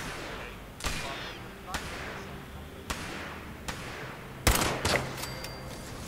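Gunfire in the video game Fallout 76: about six sharp shots fired at roughly one-second intervals, with the last blast louder and followed by a short burst, over a low background bed.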